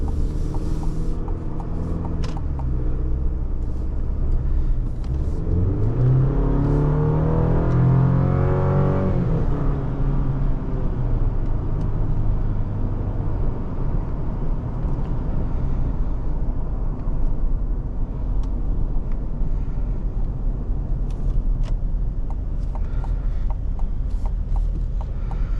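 A 2023 GMC Canyon Denali pickup accelerating hard at full throttle on an on-ramp, engine note rising steadily in pitch for several seconds and then easing into a steady cruising drone with road and cabin noise throughout.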